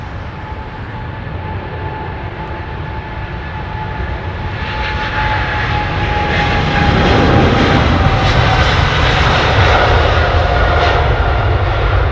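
Jet engines of an airliner spool up for takeoff at London Heathrow, a broad, steady roar that swells louder over several seconds and holds near and powerful, with a thin whining tone running through it and no voices.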